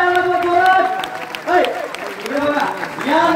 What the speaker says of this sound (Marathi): जोरात टाळ्या वाजवा, जोरात